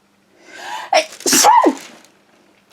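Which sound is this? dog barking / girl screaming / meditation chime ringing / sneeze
sneeze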